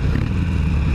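A motorcycle on an afternoon ride gives a steady, loud engine drone close by, with a rumbling low end and no speech over it.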